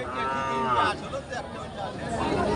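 A desi breed cow at a cattle market gives a drawn-out, close moo with clear harmonic tones, while background chatter murmurs faintly underneath.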